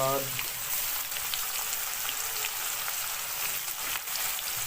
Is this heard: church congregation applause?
no